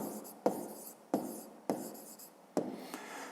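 Chalk or pen strokes writing out the answer to a fifth-grade maths word problem, a few sharp taps and scratchy strokes in a short rhythmic sequence, close and fairly quiet with no talking.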